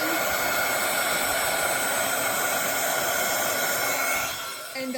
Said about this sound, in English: you want to be very careful when you're running a heat gun